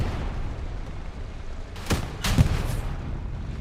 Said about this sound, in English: Doc's gonna shoot him in the ass with a rocket.